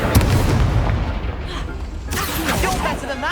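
A Confringo blasting spell explodes in the video game Hogwarts Legacy with a heavy, booming blast and a rumbling, crackling tail that fills the whole moment.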